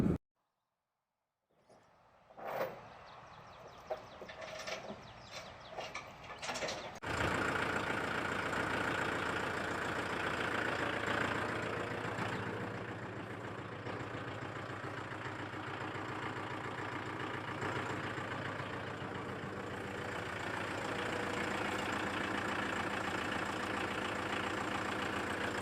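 A new farm tractor engine turns over and then settles into a steady, loud, continuous idle, heard up close after a few short clunks and handling noises.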